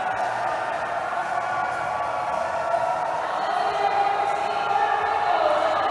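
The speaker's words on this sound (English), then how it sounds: "Listen to the fans on the floor cheering for them." Fans on the floor of a roller derby track cheer for Puerto Rico's team, a steady, far-off crowd roar that holds constant and swells slightly toward the end.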